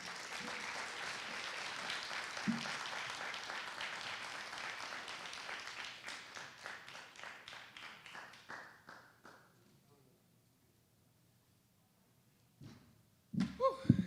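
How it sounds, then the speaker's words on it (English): Audience applause greets an artist walking onto the stage at a Black arts showcase, a dense steady clapping that thins into scattered claps and fades to silence, followed by a few loud close claps. "Clap him all the way up."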